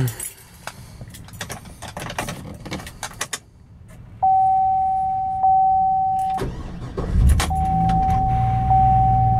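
Keys jingle and rustle close by, then a 2006 Chevrolet SSR roadster pickup's starter cranks and the engine catches and settles into a steady idle, with a chime tone sounding.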